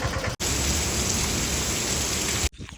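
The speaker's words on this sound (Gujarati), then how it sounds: "પવન ને વરસાદ ધીમો ધીમો ચાલુ થઈ ગયો છે" Dense, steady hiss of cyclone rain with a broad rushing wash of strong wind, constant and loud, cutting off abruptly near the end.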